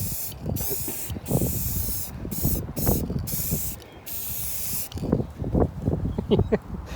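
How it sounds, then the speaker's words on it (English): Hissing bursts from a spray paint can come in short repeated blasts with brief gaps, close and fairly loud, mixed with some rattling handling noise and a voice talking. "You guys don't need to keep watching me do the worst spray paint job in the world."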